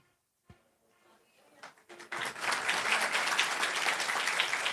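Audience clapping at an event in India, starting from near silence with a few scattered claps and swelling into sustained, fairly loud applause from a large crowd.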